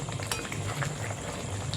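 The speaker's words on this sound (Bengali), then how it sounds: "আমি আলতা হাতে একটু নেড়ে দিচ্ছি" Soya muitha curry with gravy simmers in a pot while being stirred by hand, a soft, steady bubbling with faint scraping, heard up close and fairly quiet.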